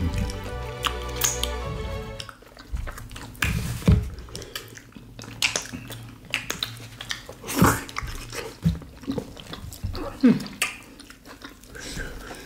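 Close-up wet chewing and squishing of rice fufu with okra soup and stew, Nigerian food, in irregular sticky bites and smacks, with a person speaking briefly at the start.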